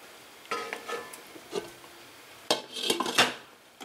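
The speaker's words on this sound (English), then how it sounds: "Give it a good stir." A spoon stirs spaghetti squash sauce in a cooking pot, with scattered metallic scrapes and clinks arriving in short irregular bursts, close and fairly clear, with no talking.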